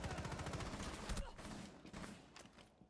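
Rapid automatic gunfire in the video game White Noise, a dense burst of shots that thins into a few scattered cracks and fades out, fairly quiet and mid-distance.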